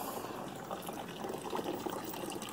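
Pressurized water runs steadily during a gold recovery process, a faint continuous rushing and gurgling flow with no talking.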